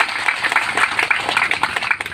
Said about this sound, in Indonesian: Tepuk tangan yang meriah untuk mereka semua